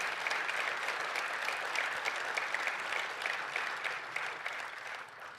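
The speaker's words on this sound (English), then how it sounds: "So I really want that round of applause for this amazing success." Press conference audience at a coach's introduction gives a round of applause, steady moderate clapping filling the room evenly and tapering slightly at the end, no voices over it.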